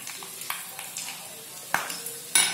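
Soft crackling and sizzling of mustard seeds popping in hot oil, with a few sharper pops and clinks scattered through.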